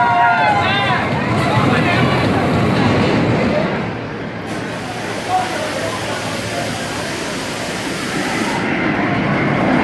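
The Kennywood Racer, a wooden racing roller coaster, rumbles past with its train rattling along the track in a loud, rushing roar. Rider screams and voices sit on top, and the roar eases slightly partway through.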